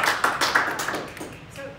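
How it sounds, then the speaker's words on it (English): A small audience at a startup community meetup claps for a coffee sponsor, a short burst of close, fairly loud hand claps that thins out within about two seconds. "Let's give them a round of applause."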